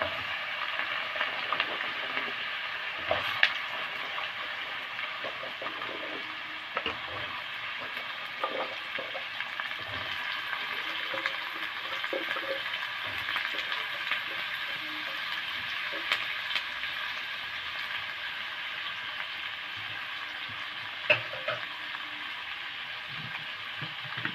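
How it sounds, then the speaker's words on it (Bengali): Potatoes fry in a nigella seed tempering, giving a steady, fairly loud broadband sizzle that runs unbroken throughout, with a few faint clicks and knocks of a utensil. "আলুগুলো কালো জিরা ফোড়নে দিলাম।"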